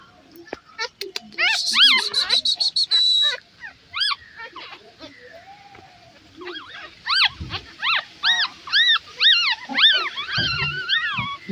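Several newborn Shih Tzu puppies whimper and squeal in high-pitched, repeated cries, close by, with short pauses between bursts.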